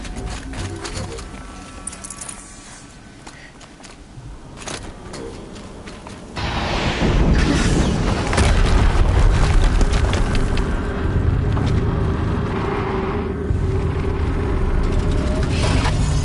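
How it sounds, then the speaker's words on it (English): A heavy explosion in the action game Horizon Zero Dawn: a sudden loud, broadband blast a few seconds in, followed by a sustained roaring rumble and debris noise that stays loud to the end. "Another explosion."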